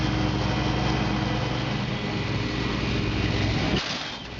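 A Ford F-150 pickup truck engine hauling a trailer, a steady loud droning hum that holds constant before dropping off abruptly near the end.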